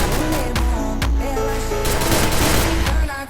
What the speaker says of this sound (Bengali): সামনে থেকে একটা এনিমি ফায়ার দিল